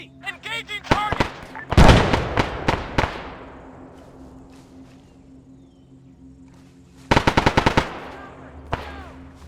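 Rifle gunfire in the ArmA 3 military video game: a rapid burst of loud close shots echoing across open terrain, a quieter stretch of distant fire, then another sharp burst near the end.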